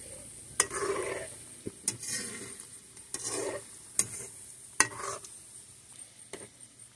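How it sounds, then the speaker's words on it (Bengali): Chicken pakoras frying over a low flame in a kadai, a soft steady sizzle broken by several sharp metallic clinks and scrapes as the pieces are stirred, quiet and close. "এখন আমি হালকা আঁচে পকোড়াগুলো ভেজে নেব।"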